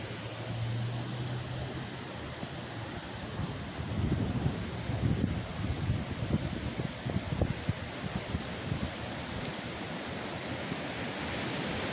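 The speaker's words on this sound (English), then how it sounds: "Yeah, just all this just whipping overhead." Hurricane Beryl winds gust through woodland, a steady roaring wash of noise that swells louder in the middle and keeps buffeting the microphone, with no voices.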